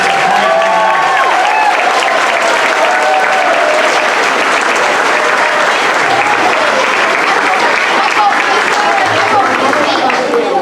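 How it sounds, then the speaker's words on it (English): A crowd at a school moving-up ceremony for fifth and sixth graders gives a loud, sustained round of applause for the class, steady and unbroken throughout, with cheers and shouts woven through the roar. "Let's give one more round of applause for the SRE class."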